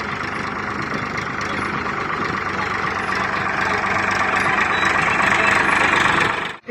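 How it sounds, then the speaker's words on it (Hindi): Tractor engine running steadily and loud in a farm field during cotton sowing, a continuous droning rumble with music faintly underneath, cutting off at the end. "ये लास्ट बार है जब ट्रैक्टर यहाँ से निकलेगा।"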